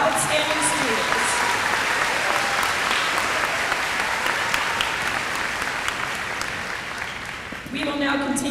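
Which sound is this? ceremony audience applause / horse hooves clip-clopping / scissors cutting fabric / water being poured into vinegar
ceremony audience applause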